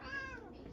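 A house cat meows on a kitchen counter, one drawn-out, rising-then-falling call heard close and clear against quiet room noise.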